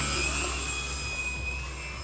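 A radio-controlled Precision Aerobatics Katana 60 aerobatic plane flies low, its engine a steady high whine and drone that fades slightly as it passes, with no talk.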